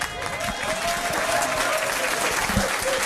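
A quiz-night crowd at a bar-venue gives a steady round of clapping and cheering for about three seconds, close and fairly loud, with voices mixed in.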